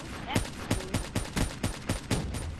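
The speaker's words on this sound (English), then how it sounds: "This is an automatic sniper too. It's like, once I fire a series of bullets, it just goes all over the place." An automatic sniper rifle in Call of Duty: Black Ops 3 fires eight loud, evenly spaced shots in quick succession, each a sharp crack with a short mechanical ring, and no talking.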